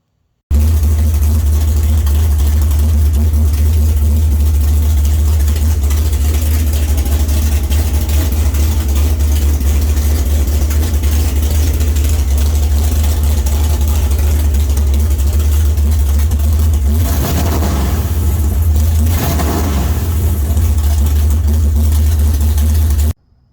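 Engine of a 4x4 JDM kei monster truck build idling steadily, a loud close low rumble with a slight swell of revving near the end, running continuously without talk.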